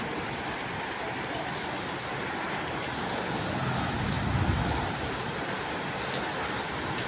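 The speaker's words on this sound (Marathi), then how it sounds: "खूप जोरात पाऊस आलाय" A steady downpour hisses evenly nearby, swelling slightly midway, with a low rumble underneath and no voices.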